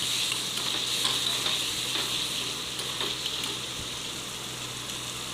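Chopped onions and spice paste sizzle steadily in a pan for a fish curry, with a spatula stirring and scraping through them at close range; no talking.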